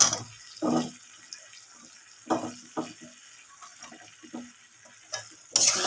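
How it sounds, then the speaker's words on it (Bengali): Masala with chopped eggplant, potato and tomato being sautéed and stirred in a pan while cooking for iftar, giving intermittent bursts of sizzling and scraping between quieter pauses, close by with no talk. "ভালো করে আবার একটু মশলাটা আমি কষিয়ে নেব"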